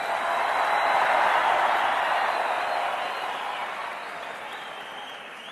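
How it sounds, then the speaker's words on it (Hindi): Sustained applause from a large audience at a Gandhinagar hall event with Prime Minister Narendra Modi, dense steady clapping that swells early and slowly fades over several seconds without speech. "ये आपके तालियों की गूंज पोरबंदर तक सुनाई जा रही है"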